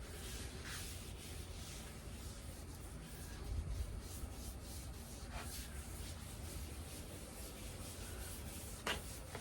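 Oil being spread across the steel cooktop of a Blackstone griddle during seasoning, a steady soft rubbing and wiping that continues without a break, close and quiet, with no talking.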